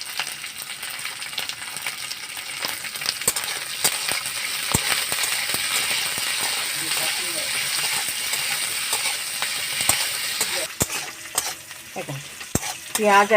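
Onion and capsicum sizzle steadily in a pan for an egg chilli dish, with scattered clinks of a spatula stirring against the metal throughout; close and fairly loud, with no talking.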